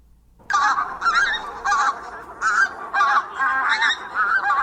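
A pair of geese honk repeatedly at close range, loud nasal calls arriving in a quick irregular series of about eight bursts after a brief quiet start.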